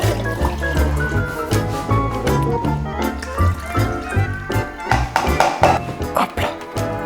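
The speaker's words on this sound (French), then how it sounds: "Faut que je rajoute un peu d'eau." Water poured into a bucket holding RC car wheels set to freeze, a close, splashy filling sound running for several seconds with metallic plinks, while someone talks.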